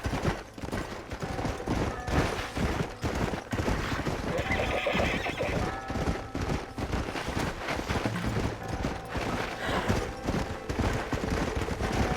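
Horses from Red Dead Redemption whinny and neigh amid steady clip-clopping hooves, with bursts of gunfire rattling in the background and a few spoken words.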